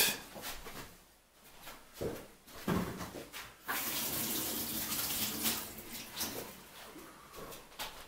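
Hands washed under a running kitchen tap while preparing cig köfte: bursts of splashing water with brief pauses and clatter, then a steadier stream of flowing water, fairly close and moderate in loudness.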